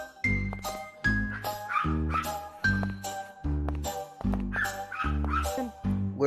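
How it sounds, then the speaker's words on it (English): A dog barks in a Gorilla Tag-style game, a steady run of about eight evenly spaced barks with a bright tinkling overtone, standing alone without talk. "Yo, whose dog is barking"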